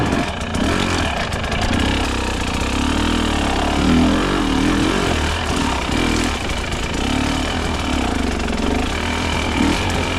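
Husqvarna TE300 dirt bike engine lugging down on an icy trail, a steady, loud low-revving drone that sags and struggles throughout with no talk.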